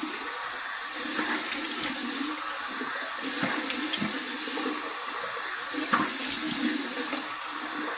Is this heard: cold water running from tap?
yes